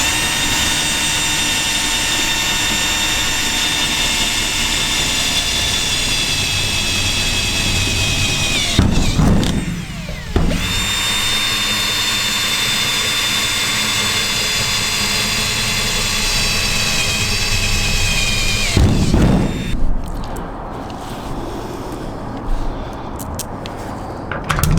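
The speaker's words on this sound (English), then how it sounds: "Now I'm going to drill holes and put the bolts in" A loud, sustained high-pitched motor whine runs nearly throughout, broken by two short pauses, as a power drill bores bolt holes for a rear awning on a camping trailer.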